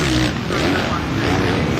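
A motocross motorcycle accelerates hard during an Arena Cross race, its engine a continuous loud roar mixed with crowd and arena noise, while a commentator talks over it.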